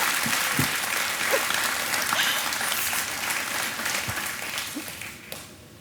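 Sustained applause from a studio game-show audience for a contestant, a broad steady clatter of many hands that gradually thins and fades toward the end.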